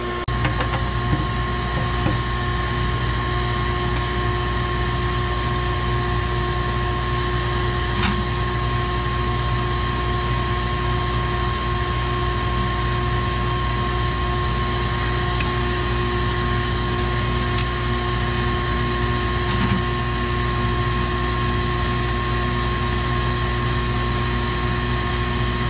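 A pump draining fluid from a Kubota runs continuously for the whole stretch, giving a steady, droning mechanical hum with faint ticks and clicks, close and unchanging, with no voices.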